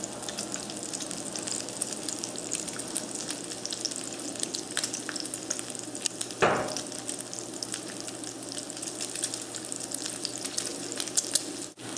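Bacon fries in oil in a sauté pan with a steady close sizzle and crackle, with a brief clatter midway and no talking.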